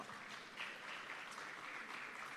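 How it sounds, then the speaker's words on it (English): A crowd at an evening rebranding and quality recognition ceremony applauds the minister. The clapping is faint, distant and steady, with no voices over it. "A round of applause for our minister."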